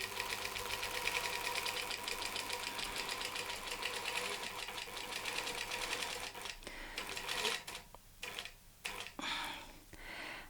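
A quilting machine stitches a Baptist Fan pattern guided by a Westalee template tool, a fast, steady mechanical needle rattle that runs evenly, then breaks into short starts and stops near the end.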